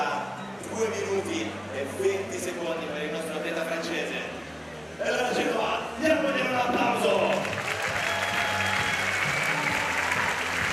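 Spectators at the men's boulder final in Genova 2024 clap and cheer for a climber, steady applause swelling louder midway, with a commentator talking over the crowd noise.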